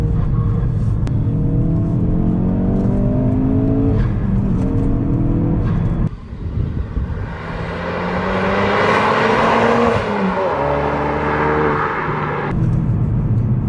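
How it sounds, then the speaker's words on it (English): A Ford Focus RS engine with a large aftermarket intake revs hard through several rising gear pulls, intake roar swelling and dropping between shifts, loud and close with no voices. "this big intake that he's got, and it sounds fantastic too"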